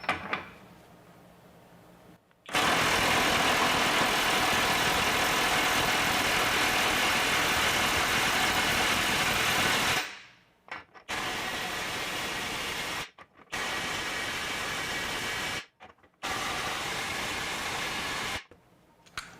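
A FLEX FX1471 cordless high-torque impact wrench hammers on a bolt near 800 foot-pounds. One loud, rattling burst lasts about seven seconds, then three shorter bursts follow with brief pauses between them.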